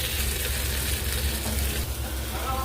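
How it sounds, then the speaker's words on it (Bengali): Vegetables frying in a pan with turmeric, salt, ginger paste and coriander-cumin powder, giving a steady, dense close-up sizzle that holds evenly throughout. "এখানে আমি সবজিগুলো সব দিয়ে ভেজে নেব।"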